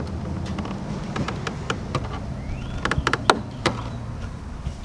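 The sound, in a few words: prying tail light bezel off with flathead screwdriver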